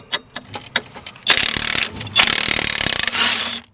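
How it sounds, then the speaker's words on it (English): A wrench loosens a large bolt on a Volvo 960 V8 coilover: a few sharp clicks, then loud, fast ratcheting in two or three long runs, close up, with no talk. "So let's put our wrench on here and try to get big heft bolt off."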